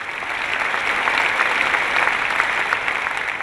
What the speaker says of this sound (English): Let's give a big hand to all those who said kids.